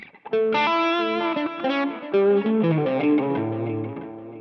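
An electric guitar plays through an HX Stomp on a crunch tone with delay, a series of ringing picked notes and chords that overlap with echoing repeats, loud and up close with no speech.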